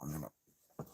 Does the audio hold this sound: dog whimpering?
yes